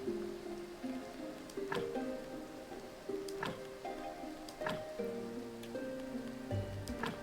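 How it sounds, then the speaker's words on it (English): Rain falls in the video game Graveyard Keeper, a faint soft patter under quiet game music notes, with sharp ticking drips or clicks recurring every second or so. "we got some rain coming down now"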